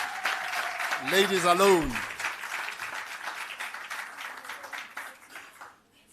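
A summit audience applauds a panel with sustained, moderate clapping that tapers off near the end, while a voice speaks briefly over it early on.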